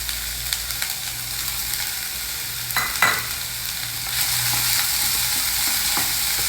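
Roughly chopped onion frying with mustard seeds, urad dal, cumin and hing, a continuous close sizzle broken by a few scraping stirs of a spoon, swelling louder near the end.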